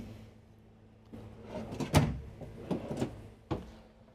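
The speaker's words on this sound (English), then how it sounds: "5 rather tall pull-out drawers, and as you can see, they are all soft close." Tall soft-close pull-out drawers in a 2024 Newmar Dutch Star 4081 motorhome slide and settle shut, giving several soft thuds and rolling slides spread over a few seconds against a low cabin hum, with no talk.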